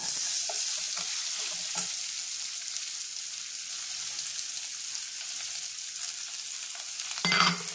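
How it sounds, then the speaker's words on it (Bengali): Chopped onions fry in oil with a whole bay leaf and cumin seeds, a bright continuous sizzle broken by several clinking stirs and a louder scrape near the end. "পেঁয়াজ কুচিটা এবার আমি লাল করে ভেজে নেব"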